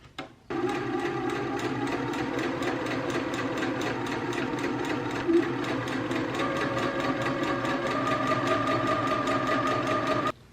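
A sewing machine runs steadily for about ten seconds, stitching a quilt fabric strip with its edge guided along the presser foot. The motor hum and needle chatter stay even and close throughout, with no talk.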